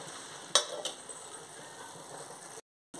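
Paneer curry with kasuri methi stirred in a pan, a couple of sharp spoon scrapes against the pan over soft steady sizzling, close by, ending abruptly in silence.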